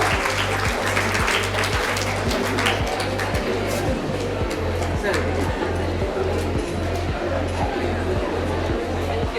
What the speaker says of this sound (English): Let us have a round of applause for Somnath